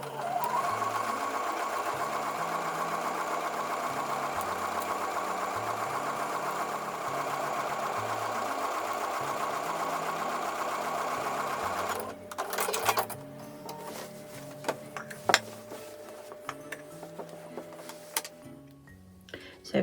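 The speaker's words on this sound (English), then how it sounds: "I'm going to take these over to the sewing machine and sew a 1/4 inch seam along the pinned edge" A sewing machine runs a quarter inch seam along a pinned quilt block edge, a steady close whir for about twelve seconds, then stops with short clicks and handling noises.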